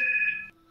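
A telephone rings once, a steady electronic tone lasting about half a second before cutting off, loud and alone.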